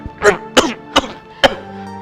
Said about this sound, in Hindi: आपने इसी तरह से खांसते रहते हैं